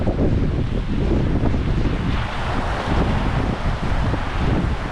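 Typhoon Uwan's wind and rain roar steadily and loudly up close, a dense, unbroken rush with gusts buffeting the microphone, around trees and banana plants, with no voices.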